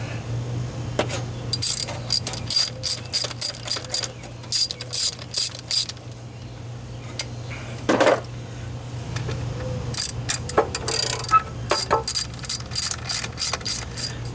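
A ratchet tightens bolts on a Jeep Wrangler YJ transfer case during a slip yoke eliminator install. Close, crisp clicking comes in repeated quick bursts with short pauses between them, over a low steady hum.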